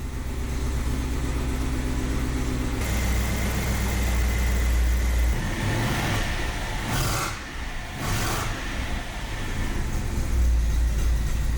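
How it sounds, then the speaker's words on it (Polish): A 5-litre V8 car engine idles unevenly after repair, a steady close low rumble that stumbles and dips briefly partway through before settling back. "Jeszcze trochę silnik kaszle."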